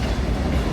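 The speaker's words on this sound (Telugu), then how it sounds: "పక్క నుంచి ట్రైన్ పోతుంది." A train runs along the tracks right beside the listener, its freight wagons giving a close, steady rumble and rolling clatter that fills the moment with no one speaking.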